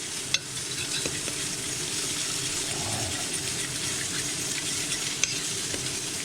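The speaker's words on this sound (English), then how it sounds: "I'm just going to get this mixed up." Venison meat sizzles loudly as it browns in a pan, with a fork stirring and scraping through the steady hiss and a couple of sharp clinks.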